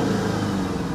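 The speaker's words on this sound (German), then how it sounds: "in dem Fall läuft hier dieser V8 auch richtig schön rund und hat eine richtig schöne Gasannahme." An Audi S8 D2 V8 engine revs close by, a dense continuous rumble with a steady low roar for one second, no talking.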